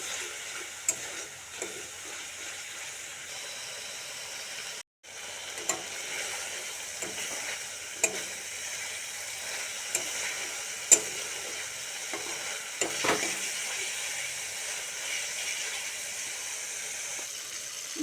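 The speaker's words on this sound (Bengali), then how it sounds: "এবার ভালো করে শুটকি মাছ মশলার সঙ্গে ভালোভাবে কষিয়ে নেব।" Dried fish frying with spices in a pan, a faint, steady sizzle with scattered light ticks and scrapes of a spoon stirring throughout, briefly cutting out once.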